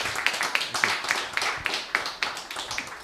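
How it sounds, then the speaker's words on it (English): Audience applause at a talk on AI, a steady patter of many hands clapping in a room, sustained and moderately loud for several seconds. "Another round of applause for Colin Gagich"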